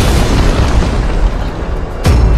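A tower blows up in a MOBA video game with a loud, dense rumbling blast that fills the whole moment, ending in a sharp fresh burst near the close.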